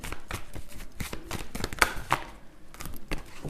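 Tarot cards shuffled by hand in short, soft, irregular riffles and taps, close but quiet, with a few slightly sharper card snaps partway through.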